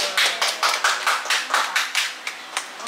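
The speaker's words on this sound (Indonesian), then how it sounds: "Oke, tepuk tangan untuk kita semuanya." Audience in a public speaking class clapping hands together in a steady, rhythmic beat, about a dozen sharp claps in under three seconds, fairly close and with no talking over it.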